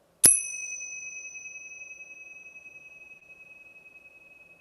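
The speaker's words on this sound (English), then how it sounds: "allowing the sound of the bell and the silence, the stillness that follows, to invite you into a space of rest" A meditation bell is struck once and rings on alone, a clear sustained tone that slowly fades into stillness.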